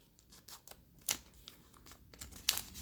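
Origami paper being folded for a crane: soft crisp creasing and crinkling rustles in short bursts, with a few sharper snaps of paper, close and fairly quiet.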